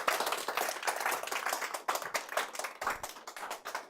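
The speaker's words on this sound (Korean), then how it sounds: "박수 한번 치겠습니다" An audience claps together at a talk event, a dense, steady patter of many hands held for several seconds without voices over it.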